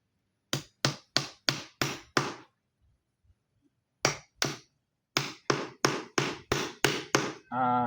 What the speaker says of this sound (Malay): kita kena guna tukul dan pisau